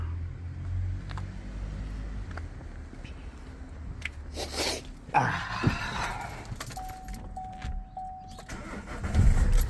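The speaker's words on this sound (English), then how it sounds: "Okay, let's start the car." Vauxhall Insignia 2014 2.0 CDTI diesel car with a limp mode fault, starting up: a brief cranking burst then the engine catching and settling into a low idle rumble, recorded close by with some handling noise and no talk.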